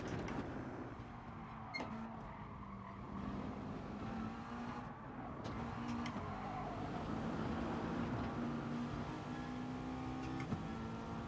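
A race car engine in Gran Turismo Sport droning steadily at moderate volume, with pitch shifting as it revs and changes gear throughout.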